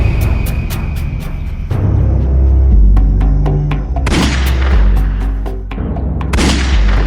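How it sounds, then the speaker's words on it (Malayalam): Loud gunshots ring out, with sharp booming reports. Two heavy blasts stand out amid a rumbling, crackling background of further fire. "അത് വെടിവെച്ചല്ലേ കേട്ടത്?"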